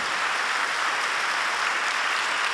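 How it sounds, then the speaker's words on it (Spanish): Congregation clapping during a Spanish-language church sermon, a dense, loud, continuous roar of many hands throughout. "Dale palmas al Señor de la gloria."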